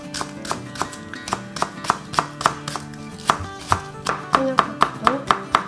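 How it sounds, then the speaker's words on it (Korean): A knife chops sliced garlic and green chili peppers on a cutting board, a brisk run of close, crisp taps in a fairly even rhythm, with no talking. "마늘은 편 썰어 주십시오. 풋고추도 어서 썰어 주시면 됩니다."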